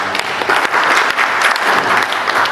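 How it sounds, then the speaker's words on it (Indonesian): Loud sustained applause from an audience at a scout SAR unit inauguration ceremony in Malang, a dense rolling wash of clapping with a few crowd noises mixed in. "Tepuk tangan untuk"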